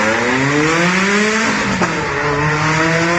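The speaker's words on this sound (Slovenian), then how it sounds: "tisti avto, ki zapustijo prizorišče, pičijo tukaj mimo" Cars leaving a Cars & Coffee meet in Koper, Slovenia, speed along a seaside promenade; one passes close with a loud, rising engine roar that sweeps up in pitch, then settles into a strong drone.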